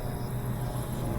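GE top-load washing machine drum spinning after the lid locks, a steady low droning hum held at an even level throughout.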